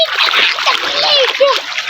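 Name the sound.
child splashing while bathing in farm irrigation water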